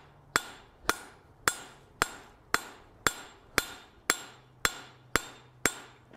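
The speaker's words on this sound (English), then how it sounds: "hammer that back, and then I'm going to work on the other side" Steel tong blank hammered on an anvil radius block set in the hardy hole, ten sharp ringing blows at a steady rhythm, close and alone.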